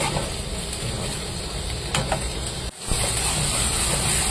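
Onions for an egg curry fry in a pan with a continuous close hiss and sizzle, a few stirring scrapes near the middle, a brief drop and then the frying resumes at full strength.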